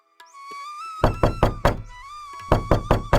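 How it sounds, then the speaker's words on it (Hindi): Someone knocks hard on a door in two quick bursts of three or four loud raps, with a sustained melodic tone running underneath. "इतने में बाहर दरवाजा खटखटाने की आवाज आई।"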